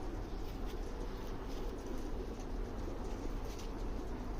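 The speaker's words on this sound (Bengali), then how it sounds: "সুন্দর একটা কবুতর।" Cooing of a pet pigeon, a prized breeding hen kept for tournament flying, rising in soft low murmurs over steady close background noise, with no talk.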